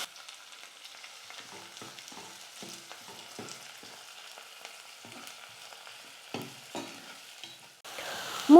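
Chopped onions and curry leaves fry quietly in a pan for tiffin sambar, with a soft, continuous sizzle and intermittent stirring scrapes, then a louder burst of sizzling at the end.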